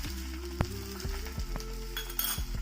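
An omelette without onion or chilli fries in a pan, a soft low sizzle with a few light clinks of a utensil against the pan.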